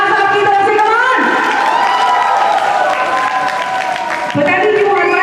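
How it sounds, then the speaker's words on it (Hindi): A crowd at a sangeet celebration claps and cheers loudly and continuously in a dense, close wash of noise, with shouting voices and the sound of tonal music running through it. "एक बार जोर से तालियां हो जाएगी, दोनों हाथ ऊपर ले जाकर, एंड मेक सम नॉइज, कुछ आवाज आपकी तरफ से"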